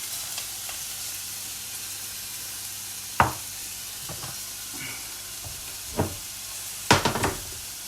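Rice sizzles softly in hot olive oil for a mushroom and chorizo risotto, a faint steady frying hiss broken by a few sharp scrapes and clinks of stirring.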